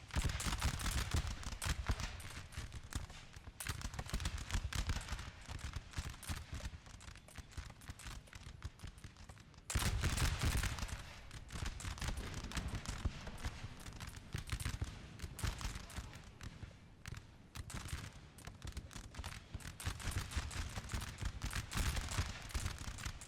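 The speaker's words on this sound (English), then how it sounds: "The shooting gallery begins." Musket volleys crackle through a large Napoleonic battle in Napoleon Total War, dense ragged bursts of massed gunfire rolling almost without pause, loud and continuous with a sharp renewed surge midway.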